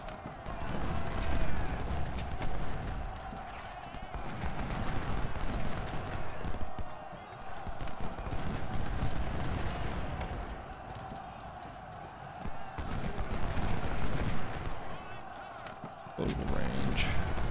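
Musket volleys and artillery fire from an Ultimate General: Civil War battle, a dense, continuous roar of crackling gunfire and booms running throughout, with talk over it.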